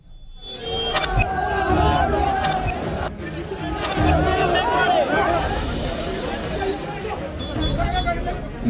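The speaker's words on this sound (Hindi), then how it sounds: "मेघवाल हत्याकांड को लेकर चल रहे प्रदर्शन के दौरान कलेक्ट्रेट पर भीड़ बेकाबू हो गई।" An unruly crowd of protesters over the Meghwal murder surges outside a district collectorate during a police baton charge, with loud, continuous shouting and overlapping voices swelling and dipping throughout.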